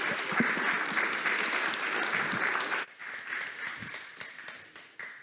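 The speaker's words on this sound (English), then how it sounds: "Big applause" Loud, dense applause from a crowd after a startup pitch at a national-winner pitching competition's global finals; it drops off sharply partway through and continues more thinly with scattered claps.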